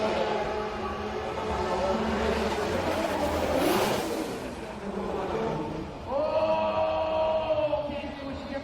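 A Greddy Performance Toyota GT86 drift car runs a recon lap at Formula Drift Montreal qualifying. Its engine roars steadily and loudly, then rises sharply in pitch as it revs up near the end.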